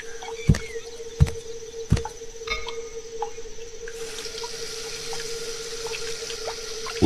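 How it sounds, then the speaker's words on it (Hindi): Water splashes as someone washes their face at a tap: several sharp splashes near the start, then a steady stream of running water with a faint background hum. "उसने अपना चेहरा धोया"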